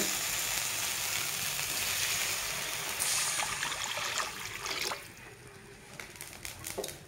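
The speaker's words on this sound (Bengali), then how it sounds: "তো দিয়ে দিব এখন আমি জল।" Water is poured into hot fried masala in a pan. It hisses and sizzles loudly, with liquid trickling in, then quietens toward the end into softer bubbling with a few small clinks.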